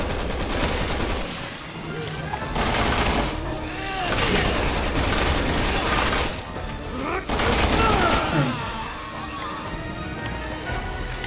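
Bursts of rapid gunfire and clattering action sounds from the co-op video game Resident Evil 6, loud and sustained in waves, with a voice talking over parts of it.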